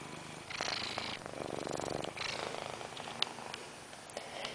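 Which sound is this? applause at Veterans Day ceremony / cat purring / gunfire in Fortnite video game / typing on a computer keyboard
cat purring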